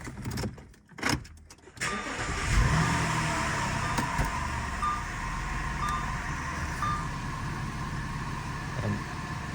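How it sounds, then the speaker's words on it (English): 2005-2011 Audi A6 (C6) engine cranked and started during a power steering fluid flush, then idling steadily with a faint whine from the power steering pump and soft periodic chime beeps, heard close in a garage. "now I'm gonna start the car so we can run the power steering pump"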